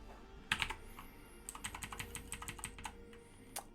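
Quick bursts of typing on a computer keyboard while entering numbers into Python and JavaScript code, uneven clusters of close, crisp key clicks with short pauses between them.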